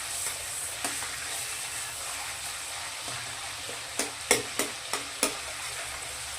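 Fish oil and vegetables fry gently in a pan for katla fish oil paturi, a soft steady sizzle broken by a few sharp scraping stirs of a spatula near the end.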